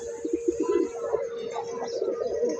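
Pigeons coo steadily in a loft, a continuous overlapping murmur of soft, throaty calls that stays fairly close and even throughout, with a few brief chirps above it.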